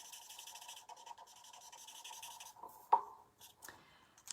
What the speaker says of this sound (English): I'm just going to go over it, I think, with my blender pen just to kind of soften it